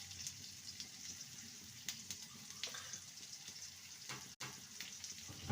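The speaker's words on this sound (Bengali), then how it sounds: "আমটাকে 2 মিনিট ভেজে নেব, হয়ে গেছে।" Mango pieces fry in a pan with salt and turmeric, giving a soft, steady sizzle and spatter at low volume, with a few faint clinks and no talking.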